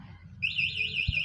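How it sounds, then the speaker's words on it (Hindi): An electric scooter's anti-theft alarm starts abruptly partway through, emitting a loud warbling electronic tone that rises and falls repeatedly, with a brief thump near the end. "अच्छा, अलार्म है, यानी कि इसके अंदर अलार्म लगा हुआ है"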